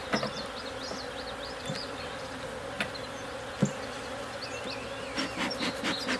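Honey bees buzz in a dense, steady swarm around an open hive during a May inspection, close by, with a few individual bees whining past and brief knocks against the frames.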